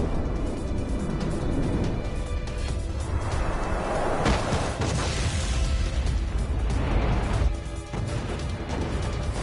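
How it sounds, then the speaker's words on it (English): A ship explodes in the video game Lost Judgment, a sustained loud roaring blast with crashing debris and rumble lasting several seconds, surging midway and easing toward the end. "This ship just exploded!"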